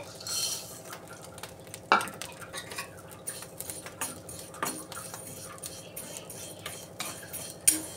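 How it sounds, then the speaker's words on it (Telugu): Vermicelli frying in ghee in a pan, with a utensil stirring and scraping against the metal, soft clinks and knocks over a low background, no speech. "ఇప్పుడు 1 కప్పు సేమియా ఇప్పుడు ఫ్రై చేసుకుందాము"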